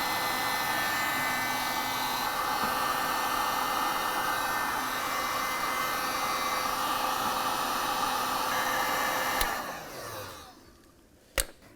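A heat gun blows steadily while shrinking heat-shrink tubing on a wiring harness for a 2007-2013 Chevrolet Silverado blower motor resistor, a loud continuous airy roar that cuts off near the end, followed by a sharp click.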